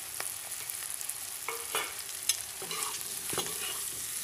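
Potatoes and capsicum stir-fried in a pan over medium to high flame, soft sizzling with repeated scraping stirs of a spatula at an uneven rhythm, close and fairly quiet with no talk.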